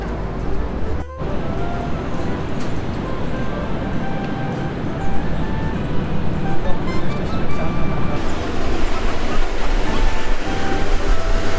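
The Rajdhani Express pulls into platform 4 at Durgapur station with a loud continuous rumble of wheels and carriages that grows slightly heavier toward the end, heard close at hand.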